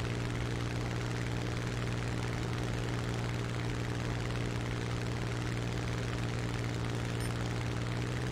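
A propeller aircraft engine in a video game drones at a constant, loud, steady pitch, a continuous hum with no talk over it.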